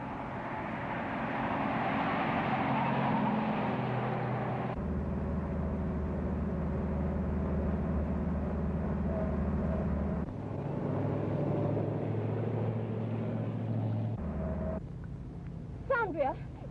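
A car engine drones steadily, rising and shifting as the vehicle drives up, with abrupt changes in tone and a brief high squeal near the end; voices talk over it.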